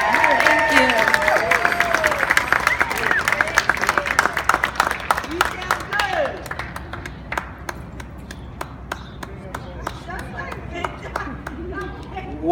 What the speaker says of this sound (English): Let's give an extra round of applause for that.